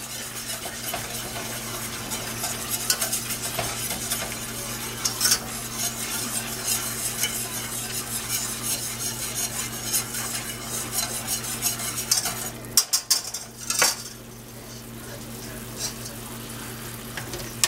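Pork tenderloin juices are stirred into a sizzling pan sauce, with a spoon scraping and clinking against the metal pan over a constant close frying hiss; the stirring briefly pauses near the end.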